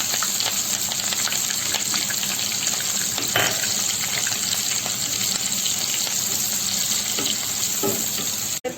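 Chopped onions fry in hot oil in a pan along with cumin and green chilies for a dhaba-style sev tomato curry. A continuous close sizzle and crackle runs throughout with a few light clinks and stirring sounds, then cuts off at the end.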